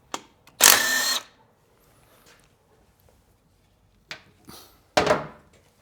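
A 12mm socket wrench loosens the fuel tank screws on a 2024 Triumph Bonneville Bobber motorcycle, giving a loud close ratcheting burst followed later by a few shorter clicking spurts in a quiet garage.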